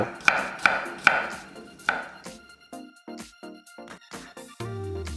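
A knife cuts whole garlic cloves into thick 0.3 cm slices on a board: four sharp, evenly spaced chops up front, then a quieter run of softer taps and slices.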